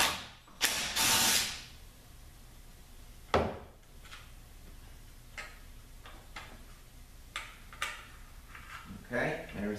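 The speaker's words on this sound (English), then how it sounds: "we're gonna take the T40 bolt out and pull up the output speed sensor." Ratchet clicks while a T40 bolt is loosened from a ZF8HP70 transmission during teardown, with short bursts of ratcheting and scattered metallic taps and knocks, close and fairly quiet, with a person speaking briefly.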